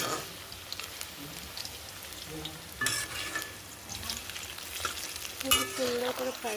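Chicken pakora frying in hot oil in a kadai gives a close, steady sizzle, with sharper crackling bursts and spoon-stirring clinks now and then.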